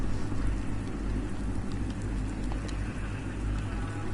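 Heavy rain pours continuously in a touring car racing game at Imola, a dense even hiss with a low rumbling undertone, scattered crisp drop patters, and no talking.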